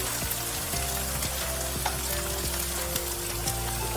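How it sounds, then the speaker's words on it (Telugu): Curry leaves sizzle and crackle in hot oil for a Telangana-style crab curry, a dense, steady frying hiss with scattered pops and occasional stirring scrapes, close and continuous. "దీంట్లోనే కరివేపాకు వేస్తున్నాను నేను."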